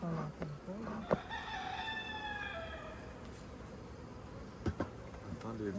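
A bee buzzes faintly close by, a thin droning hum with a few sharp knocks and brief voices in the background.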